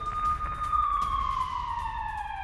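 Air raid alert siren sounding across Donetsk during an attack, one loud steady wail that slowly falls in pitch, with outdoor rumble underneath and no one speaking.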